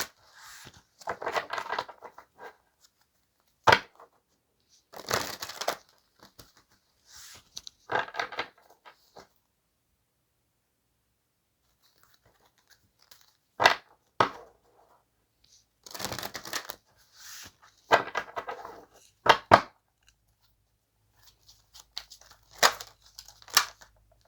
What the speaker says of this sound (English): I do like to shuffle here on camera for you guys.